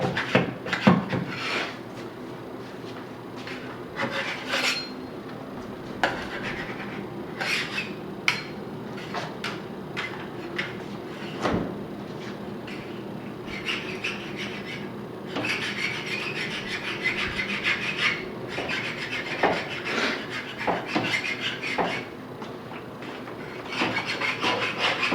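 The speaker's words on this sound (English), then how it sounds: "We got a scraper, and what he does is go around and get the edges and the corners, scrape up any residue or anything that's stuck down." Scraper rubbing and rasping along floor edges and corners to lift stuck residue in a rental property, a steady close scratching with irregular knocks, no talking.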